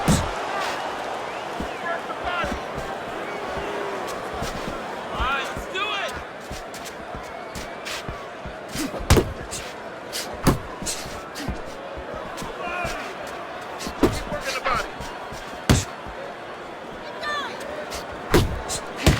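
Punches thud in a Fight Night Champion boxing match, sharp impacts landing irregularly over steady crowd noise while a commentator talks throughout.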